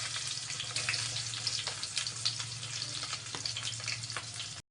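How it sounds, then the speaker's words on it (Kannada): Onions frying in a pan for an avarekalu bath, with a steady close sizzle and crackle running unbroken throughout, plus a low steady hum underneath; no voices. "ನೋಡಿ, ಈಗ ಈರುಳ್ಳಿ ಹಾಕ್ತಾ ಇದ್ದೀನಿ."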